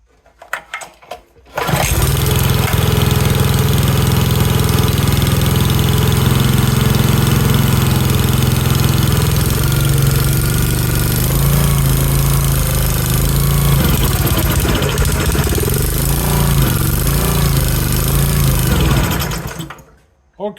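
Small engine on a Pioneer BS200 paint liner catches after a pull and runs loud and steady near the microphone for about seventeen seconds, then cuts out.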